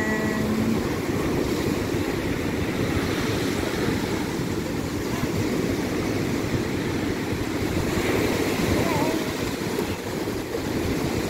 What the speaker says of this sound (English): Let's just enjoy the waves.